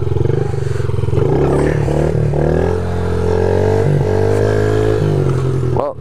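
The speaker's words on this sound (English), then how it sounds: "All right, one more wheelie," A Yamaha TTR50 dirt bike engine revs steadily while lifting into a wheelie, its small motor droning loud and close with pitch rising and falling.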